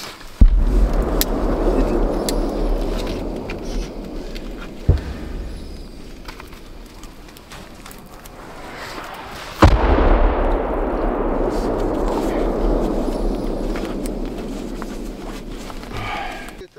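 Artillery fires and shells explode on a front line in Ukraine, heard as three heavy booms spaced several seconds apart, each followed by a long rumbling roar and a slow decay outdoors.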